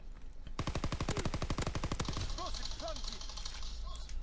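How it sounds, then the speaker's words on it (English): PPSh submachine gun firing in a video game: a rapid, loud sustained burst of automatic fire lasting about a second and a half, followed by brief warbling game sounds. "This PPSH is the best."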